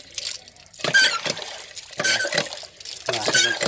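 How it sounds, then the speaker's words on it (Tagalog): Water gushing from a repaired hand-operated water pump, coming in strong bursts with squeaks from the pump handle in a rhythmic pumping pattern, close and fairly loud. "Malakas ng tubig niya."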